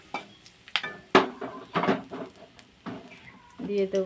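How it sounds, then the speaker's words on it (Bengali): Whole garam masala, a bay leaf and dried red chillies crackle in hot oil as a spoon scrapes and taps the pan in short bursts, with someone talking briefly over the stirring. "দিয়ে দিচ্ছি গোটা গরম মশলা একটা তেজপাতা আর শুকনো লঙ্কা এটা দিয়ে ভালোভাবে আমি একটু নেড়ে চেড়ে"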